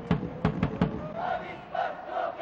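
A few sharp rhythmic claps or drum hits, then a video game stadium crowd roars and chants in swelling waves, distant and echoing, in Winning Eleven 3 (1997) as Avispa Fukuoka take the pitch against Cerezo Osaka.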